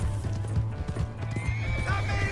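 A horse gallops and neighs in Red Dead Redemption 2, its rapid hoofbeats drumming steadily while a whinny rises near the end, with faint voices underneath.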